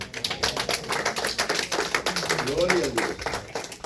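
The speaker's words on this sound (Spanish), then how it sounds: "¿cuánto le dan un aplauso al Señor?" Church congregation clapping in praise to the Lord, rhythmic hand claps under loud voices and a shouted exclamation, continuing for a few seconds.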